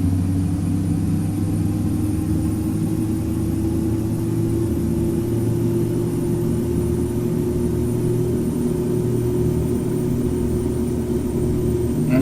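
A propeller aircraft at full power rolls down the runway for takeoff in the X-Plane 10 flight simulator, with a steady, loud engine drone and rumble that holds level throughout and no voices.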